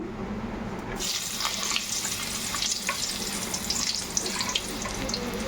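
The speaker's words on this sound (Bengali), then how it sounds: "পটলটা একটু ভালো করে ভেজে তুলে নেবো" Pointed gourd (potol) frying in hot salted oil in a pan, a dense, steady sizzle that bursts in after a brief quiet start and crackles on continuously, close and fairly loud.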